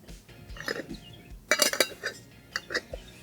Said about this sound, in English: Now we're just gonna get some tops on here.